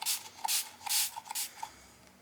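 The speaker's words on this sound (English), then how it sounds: "This actually works better, really, if you spray it after you lay it on your shears." Water spritzed from a spray bottle onto a pair of shears in a series of short hissing bursts, about six quick sprays of varying length, close and fairly quiet with no talking.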